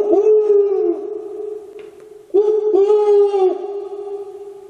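A human voice imitates an owl with long, wavering hooting calls, one held hoot, a pause, then two more close together, loud and near with no other sound.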